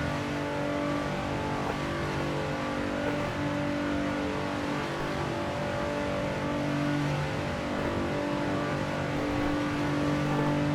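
Nissan 370Z Nismo in Assetto Corsa, engine droning steadily at high speed with a continuous loud tone throughout, no talking.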